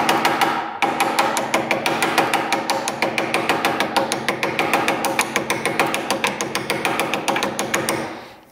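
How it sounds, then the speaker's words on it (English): Hammer tapping on a rusted part of an old snowmobile sled that sat untouched for 30 years: a long, steady run of quick, evenly spaced metallic taps, loud and close, with no talking. "Maybe a couple love taps with the hammer."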